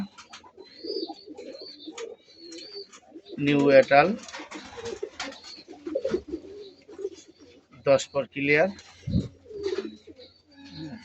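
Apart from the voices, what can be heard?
pair of sky-blue pigeons cooing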